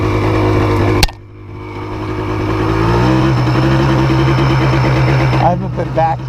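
Engine of a Yamaha Blaster quad with a hand clutch, running again after rodent damage: a sharp click, then a loud, close idle that rises and revs steadily before easing slightly at the end.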